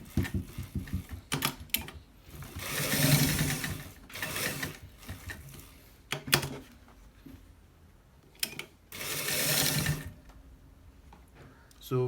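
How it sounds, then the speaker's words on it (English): Sewing machine stitching a shirt collar, running in several bursts of rapid mechanical whirring separated by short pauses, close and fairly loud, with a voice talking between runs. "So we are stitching it, please watch it"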